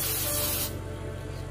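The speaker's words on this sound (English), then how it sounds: "Spray that good." Cooking oil sprayed from a can onto bread dough for a one-hour loaf, a close, loud hissing burst that cuts off partway through, leaving a quieter background.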